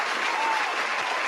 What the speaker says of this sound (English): Round of applause to Tommy.